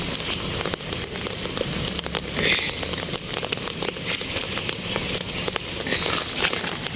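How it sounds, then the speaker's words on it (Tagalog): Rain falls steadily as a dense, even patter of drops, probably striking an umbrella held close, moderately loud throughout with no talking. "Umuulan siya guys, kaya nakapayong ako."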